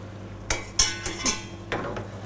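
A spoon stirs crustacean stock into sautéed spiny lobster in a pan, with a few sharp scraping knocks against the metal spread unevenly over a couple of seconds, fairly close and moderately loud.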